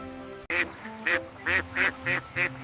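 A duck quacks in a rapid series of six loud, nasal calls at an even rhythm, close by and clear over a faint tonal background.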